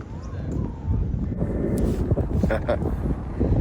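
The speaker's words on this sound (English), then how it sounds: "It's really windy." Strong wind in Norfolk buffets the microphone in continuous low rumbling gusts, with a few faint higher sounds in the background.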